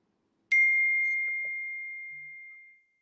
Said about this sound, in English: Does somebody have a bell?